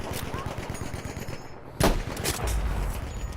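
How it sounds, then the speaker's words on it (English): A Ross Rifle MkIII sniper rifle in Battlefield 5 firing once, a sharp, hollow boom followed by a short clatter of cartridge ejection and bolt action under a low steady game background. "The sound is one of those hollow thuds mixed with a slight jingle as the empty cartridge is ejected from the chamber."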